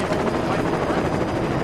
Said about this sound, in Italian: L'elicottero è qua.